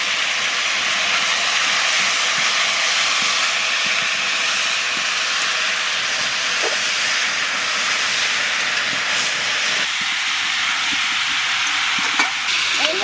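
Potatoes fry in hot oil in a pan with a steady, loud sizzle and hiss throughout, broken by a few faint stirring clicks.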